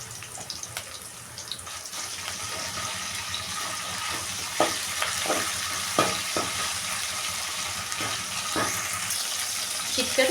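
Ginger garlic paste and curry leaves fry in hot oil, giving a steady, fairly loud sizzle with scattered crackles and a few sharp pops of spattering.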